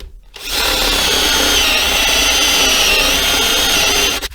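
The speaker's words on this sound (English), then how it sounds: "I can use this to pre-drill a little bit." A power drill starts up and spins steadily while pre-drilling into a guitar body being routed for its cavity, making a loud, close, continuous whine that holds for about four seconds and then stops.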